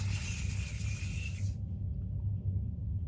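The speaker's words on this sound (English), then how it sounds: "You don't want the hairspray to get on your face because chemical." Hairspray is sprayed onto side bangs as a steady, close hiss that lasts about a second and a half and then cuts off, leaving quiet room tone with a low background rumble.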